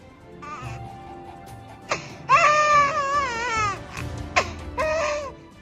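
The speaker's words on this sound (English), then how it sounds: "this is just a giant salamander who's known to vocalize barking" Several wailing, infant-like cries rise and fall, with short breaks between them, fairly close against a quiet background.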